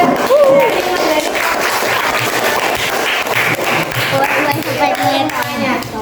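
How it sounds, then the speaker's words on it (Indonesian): Schoolchildren in a classroom clap for a classmate after a poster presentation, a lively burst of small hands mixed with children's voices and chatter throughout. "Tepuk tangan untuk Mbak Nabila"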